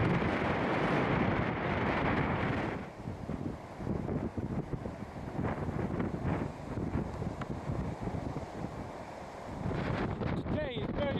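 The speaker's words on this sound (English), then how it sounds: "Today is very windy." Strong wind buffeting the microphone in a steady roaring rush on the Pennine Way near Stainmore Gap, England, easing briefly midway before gusting again, with faint talk underneath.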